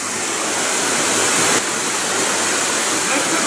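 Garden Creek Waterfall on Casper Mountain, Wyoming roars as a loud, steady wash of falling water that stays unbroken throughout and sounds close by.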